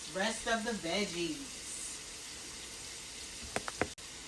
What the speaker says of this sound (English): as you can see, it's sizzling